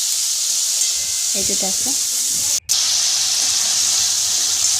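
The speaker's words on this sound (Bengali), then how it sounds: "এবার একটু জল দিয়ে দিচ্ছি, জল দিয়ে ভাজবো।" Masala of cumin powder and salt sizzles loudly in a frying pan with water added for small-fish curry, giving a steady close hiss that cuts out for a moment and returns, with a short spoken phrase partway through.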